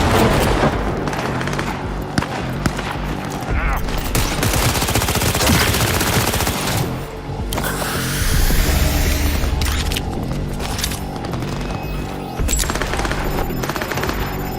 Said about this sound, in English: Keep firing them!